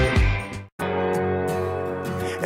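Excerpt of a Bailey Zimmerman song: full, loud, dense music with a brief dropout partway, then the song continues steadily.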